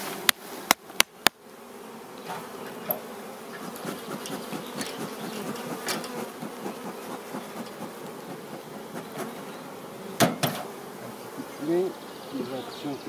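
Honeybees drone in a steady, close buzz as they are brushed off a hive frame, with a few sharp knocks at the start and later, and occasional soft voices underneath.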